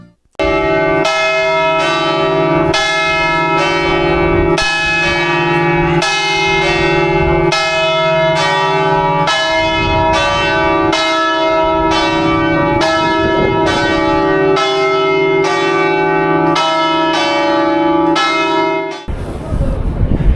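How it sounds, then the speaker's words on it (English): Church bells in an active Venice bell tower ring loudly and close, a rapid run of overlapping bell strikes for about twenty seconds before cutting off, with a hint of voices underneath. "this is an active bell tower and the bells do ring on a regular basis"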